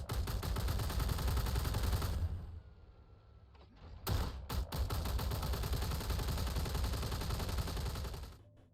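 Sustained rapid cannon fire from the Ares Inferno heavy fighter's ship gun in Star Citizen, a loud dense burst that stops, then resumes with a few sharp shots before another long continuous stream, with no talking.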